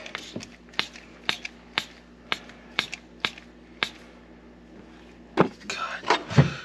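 Sharp, evenly spaced ratchet clicks from tightening an Agency Power wastegate actuator on a Can-Am Maverick X3, about nine crisp metallic ticks in steady rhythm, close up, followed by a short burst of faster rattling clicks.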